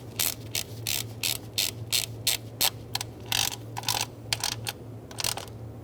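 A ratchet clicks in quick bursts while snugging down valve cover bolts on a 2002-2006 Toyota Camry, with close, sharp pawl clicks in short irregular runs over a low hum.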